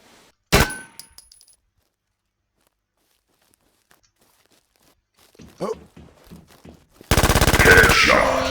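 Gunfire in the shooter game Warz Legend, one sharp close shot, then a few lighter pops and clinks after a quiet stretch, ending in a loud sustained burst of automatic fire.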